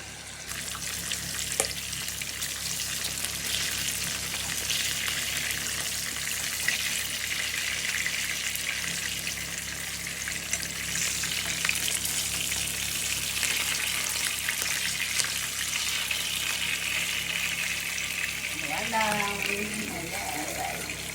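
Pink salmon pieces fry in a small pan, giving off a steady, close sizzle and crackle that runs throughout, with faint spatters and a brief soft clink near the end.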